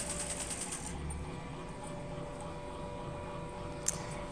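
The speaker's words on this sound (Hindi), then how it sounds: "इस तरह से हम सिलाई कर लेंगे" A sewing machine stitching a blouse runs in a steady mechanical whir close by, with a rapid needle rhythm that is clearest at the start and a single sharp click near the end.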